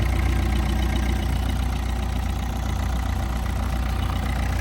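A 2013 Opel Zafira engine idles steadily and evenly, a close, continuous low hum with a faint rhythmic pulse and no other sounds.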